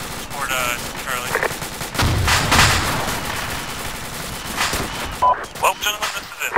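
Rapid automatic gunfire and bursts rattle through a military video game battle on the Mogilevka Line, loud and dense, with a heavier blast midway and a voice talking over the fighting.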